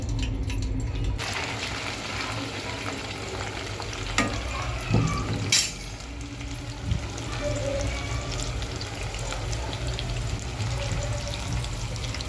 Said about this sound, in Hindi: चल रहे हैं अभी पनीर फ्राई करने